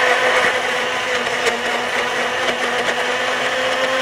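A kitchen blender whirs steadily as it purées fruit into a healthy juice, a loud, close, unbroken motor whine with no one speaking over it.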